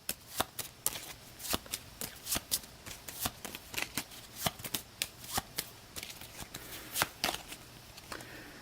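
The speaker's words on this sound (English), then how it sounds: "we'll shuffle these 5 cards to be the Automa deck for the first round" A small five-card deck for the Age of Innovation board game's Automa opponent is shuffled by hand, giving a close, steady run of crisp riffling snaps and slaps with no talking.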